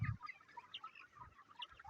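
Free-range country chickens peck at feed and grain, giving soft, scattered clucks and chirps. A low thump opens the clip, the birds are close, and the sound is quiet overall.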